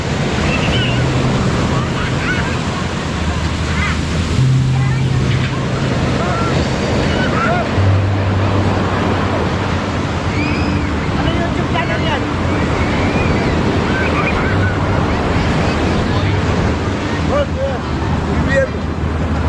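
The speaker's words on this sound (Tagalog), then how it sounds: "makikita natin, napakalakas ng alon." Powerful ocean waves crash and surge continuously at a beach in Bagac, Bataan, mixed with gusty wind buffeting the microphone, with a low engine hum faintly underneath.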